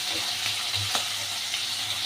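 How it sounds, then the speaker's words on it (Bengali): Prawns fry in a pan with a steady, close sizzle and crackle, broken by a few soft stirring scrapes. "সুন্দর করে ভাজবো আর কি, লাল লাল বাদামি বাদামি করে।"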